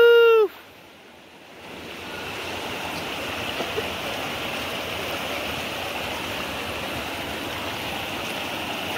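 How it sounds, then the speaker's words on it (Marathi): The Shivganga river flowing over stones near a temple village, a steady broad rush of water close by, with a brief whistle-like tone at the start before the flow rises and holds. "आता ही नदी खालची मोठी नदी आहे, त्याला जॉईन झालेली तीच नदी आहे, शिवगंगा नदी।"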